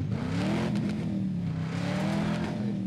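A Dodge Challenger in the racing game Need for Speed Most Wanted 2012 holds a steady, loud engine roar, its pitch rising gently and then holding under throttle, close and continuous with no voices over it.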